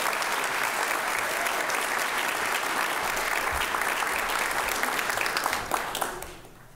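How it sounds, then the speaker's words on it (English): A worship service congregation gives sustained applause, many hands clapping steadily for several seconds before tapering off and fading out. "Give Chris a round of applause"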